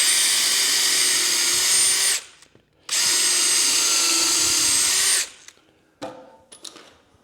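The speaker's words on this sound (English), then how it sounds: "I want the screw to counterbore itself into the wood" A power drill drives a screw into an old 2x4, whining loudly in two sustained bursts of about two and three seconds, followed by faint knocks and handling noises.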